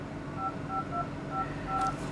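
A quick series of about six faint touch-tone beeps from a Huawei Honor 6 phone keypad, evenly spaced over a quiet background.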